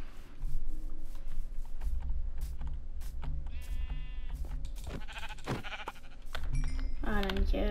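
Sheep in Minecraft bleat a couple of times over a busy mix of game clicks, blocks and low background rumble, with short wavering calls in the middle and near the end.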